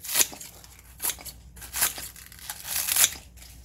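Scissors snip green onions into pieces for water kimchi, with about five crisp, separate cuts, each a sharp crunchy snap, and quiet between them.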